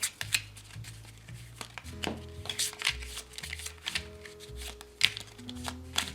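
A deck of board game cards is shuffled repeatedly, giving quick riffling bursts and soft slaps close by, with a faint low hum underneath.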